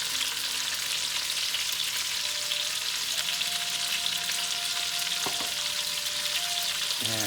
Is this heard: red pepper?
yes